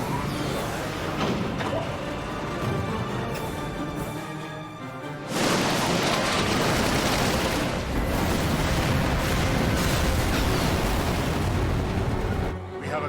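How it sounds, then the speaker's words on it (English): Heavy booming cannon fire in the video game Final Fantasy XII, blasts and rumbling crashes rolling on continuously, dense and loud, with a sharp surge of noise about halfway through. "Give word to the cannons. Make ready and fire."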